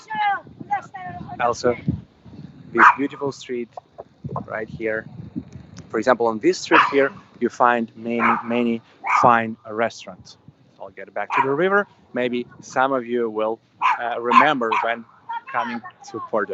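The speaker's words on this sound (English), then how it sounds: "There's a pretty loud dog here with a local." On a Porto street lined with restaurants, a loud dog barks in intermittent bursts, mixed in with someone talking steadily throughout.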